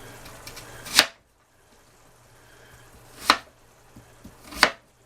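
A knife chops an onion in three separate, crisp strikes on a board, roughly one to two seconds apart, with quiet pauses between them and a faint background hum.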